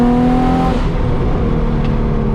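Nissan Z with a misfiring engine under way, a loud sustained revving drone heard from the cabin, easing slightly partway through with no voices.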